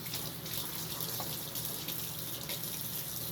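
Tap water runs steadily into a jar while melon seeds are rinsed, a constant hissing splash at moderate loudness with no voices.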